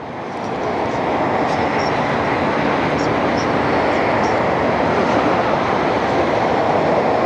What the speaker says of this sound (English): Alright, Nippon Cargo has touched down.